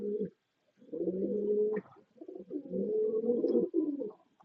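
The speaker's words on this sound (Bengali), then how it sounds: "এখন যে কবুতরগুলো দেখতে পাচ্ছেন সেগুলো হচ্ছে এক জোড়া তামাসিন কবুতর" A pair of Tamasin fancy pigeons coo nearby in low, rolling phrases, two long bursts separated by short pauses, clear and close with no talk.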